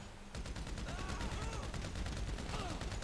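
Rapid automatic gunfire in a shooter video game, a steady stream of crisp, evenly spaced shots that runs for several seconds, quiet overall with no talking.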